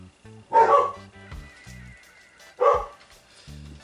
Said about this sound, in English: You hear my dogs barking.